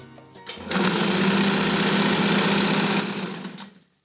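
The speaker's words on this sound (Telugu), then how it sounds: "ఒక మిషన్ ఉంటే చిన్నది ఇట్లా మనం కుట్టుకోవచ్చు అని మీకు చూపిస్తున్నాను" A small sewing machine stitches clothing such as nighties and tops, running in one steady, loud mechanical whir for about two and a half seconds before slowing and stopping, with no talking.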